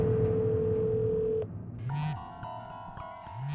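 Mobile phone ringing with a steady electronic tone that cuts off, followed by a brighter repeating ringtone pattern, moderately loud and close.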